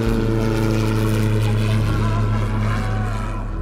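A 1966 Cessna 172 propeller plane drones with a loud, steady engine hum close by, continuous with no pauses, and a voice speaks over it.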